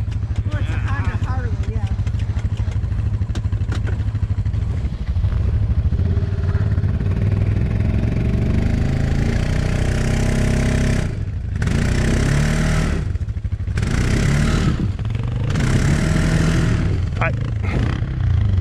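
A Honda Pioneer side-by-side's engine drones and revs in bursts while it pulls a stuck ATV free off-road, mixed with clattering and loud talk from nearby riders.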